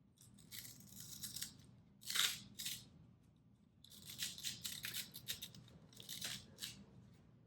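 Velcro pads on an Annapro Head Strap 2 for Apple Vision Pro are peeled away in several short, rasping tears, some single and some in quick clusters, close and fairly quiet.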